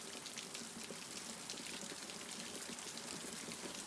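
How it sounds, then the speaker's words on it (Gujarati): Heavy rain pours steadily in Hinkli, a dense, continuous hiss of drops drumming on surfaces with no pauses, fairly loud and close. "બહુ જ વરસાદ પડી રહ્યો છે અત્યારે, જબરદસ્ત."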